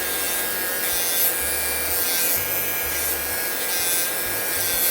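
Low-cost electric nail drill filing gel polish off a ring fingernail, a steady whirring grind throughout with a faint hum that shifts slightly in pitch as pressure changes, close and without talk.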